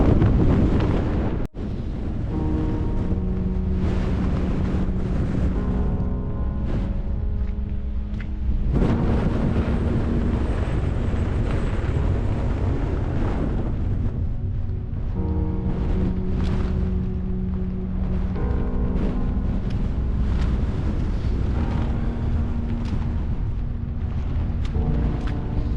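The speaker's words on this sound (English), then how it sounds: "Wind has really picked up now" Strong wind on a fell in the Lake District, roaring in heavy gusts and buffeting the microphone close up, a loud and continuous rush with no speech.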